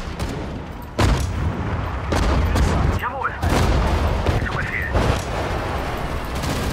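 Gunfire and heavy booms from the World War II strategy game Sudden Strike 4 during the Battle of France, with loud repeated blasts and bursts layered over a rumbling battle din and a brief game voice.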